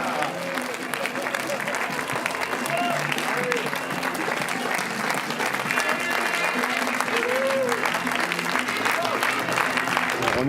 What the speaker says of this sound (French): un applaudissement s'il vous plaît pour toutes ces personnes